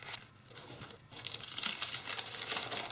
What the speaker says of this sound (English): We're going to first crease the diagonal with the brown side up, unfold, rotate and crease the other diagonal too.